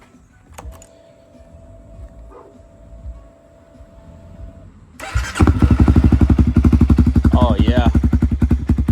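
A brief tone and a few clicks before a Honda Grom motorcycle with a swapped 349 engine catches and roars to life, idling loud and close with a rapid pulsing beat; someone speaks briefly.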